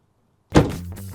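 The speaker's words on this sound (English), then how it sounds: "and when you open the door" A Toyota Supra car door swings open with a single close thunk followed by a brief settling rattle, loud and isolated after a moment of near silence.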